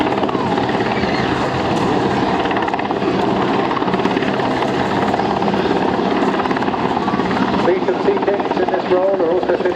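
Search-and-rescue helicopter flying at the Eastbourne seaside airshow on a windy day, its loud continuous rotor thrum and turbine whine steady throughout, with a commentator talking over it on the public address.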